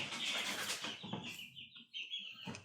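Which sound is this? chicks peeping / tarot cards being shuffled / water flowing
chicks peeping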